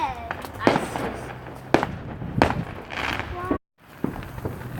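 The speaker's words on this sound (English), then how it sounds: "there are so many illegal fireworks going on" Illegal fireworks on a July 4th evening pop and bang in sharp bursts, several reports within a few seconds, close and loud, with people talking and exclaiming between them.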